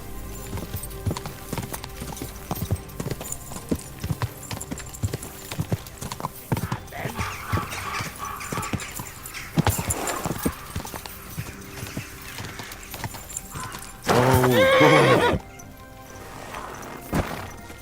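A horse in Kingdom Come Deliverance II gallops with steady clip-clop hoofbeats for many seconds, then gives a loud, close whinny near the end, with scattered thuds and clatter around it.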